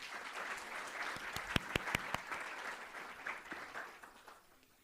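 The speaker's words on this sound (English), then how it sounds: "Let's give them a round of applause for their amazing service." Audience applause for student volunteers at a university community engagement forum, a steady wash of many hands clapping with a few sharper close claps, fading toward the end.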